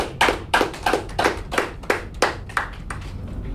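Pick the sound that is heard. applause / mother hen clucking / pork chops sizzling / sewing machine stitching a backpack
applause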